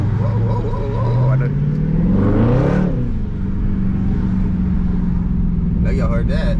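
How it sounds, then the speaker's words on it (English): A Mopar car, likely a Dodge, revs its engine loudly while cruising, with a sharp rising rev and a brief tire chirp mid-clip, under ongoing talk. "cruising, chirping the tires a little bit"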